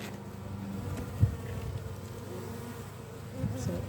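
Honeybees buzz steadily around a hive frame of nectar and pollen, a close, continuous low hum with a brief louder swell partway through.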